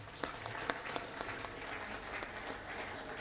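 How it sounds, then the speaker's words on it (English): Applause from an audience at an HR conclave at a business school, faint and distant, with a wash of crowd clapping and a few sharper individual claps standing out. "a big round of applause to all of you"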